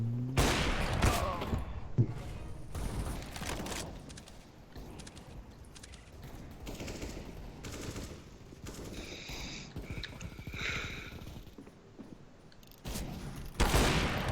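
Rapid bursts of gunfire in a Counter-Strike: Global Offensive match, loud sharp volleys at the start and end with scattered shots and game noise between them, heard alone without talking.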